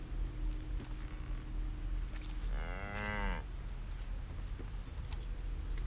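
An ox in Baldur's Gate 3 gives a single drawn-out moo, clear and fairly close, over a steady low ambient game background.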